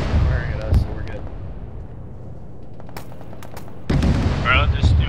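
Gunfire in the Arma video game, a few sharp cracks and booming shots with bursts near the start and a heavier rumble toward the end, close and loud.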